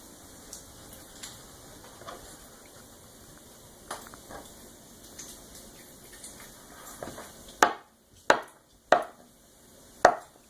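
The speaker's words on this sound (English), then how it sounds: "take our wheel of Brie and we are going to cut it. Little pieces." Knife slicing a wheel of Brie into small bite-sized pieces on a board: faint soft cutting over quiet kitchen background, then four sharp, evenly spaced chops close up near the end.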